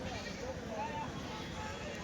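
Goats bleat briefly in a short, wavering call at a weekly goat market in Kadiri, with voices murmuring nearby.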